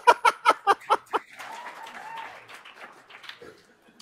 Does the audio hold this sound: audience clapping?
yes